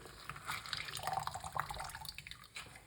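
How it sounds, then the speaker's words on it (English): Juice squeezed out of pomegranate by hand gives faint wet dripping and trickling, soft and close, with small irregular splashes. "So you're going to squeeze out the liquid."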